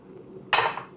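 A metal cooking pot is set down on a kitchen stove with a single bright clang that rings out briefly, standing alone against a quiet room.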